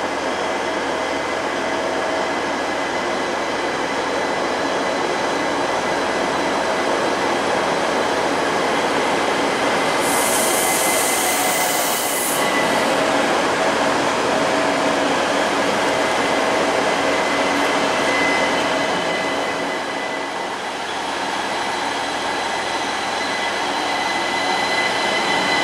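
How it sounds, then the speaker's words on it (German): A DB class 612 regional diesel train pulls into Lindau station on track 24, a broad, steady rumble and rolling roar of the railcar close by, with a brief high squeal partway through as it slows. "mit dem 612, der jetzt gerade hier einfährt auf Gleis 24"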